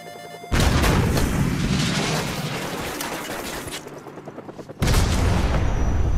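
A Stinger missile launching at a flare-dropping helicopter in Call of Duty Modern Warfare Remastered, a sudden loud blast followed by a long roaring rush that fades, then a second abrupt loud burst, close and dominant.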